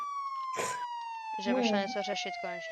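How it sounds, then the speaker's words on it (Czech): Police sirens wail inside the Roblox game Brookhaven, a steady, slowly falling tone with overtones running under people talking throughout. "Proč houkají sirény"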